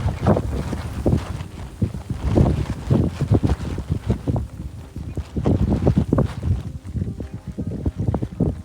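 Strong, cold wind blasts across the exposed summit of Chembra Peak in Wayanad during rain, roaring in uneven gusts as it buffets the microphone throughout.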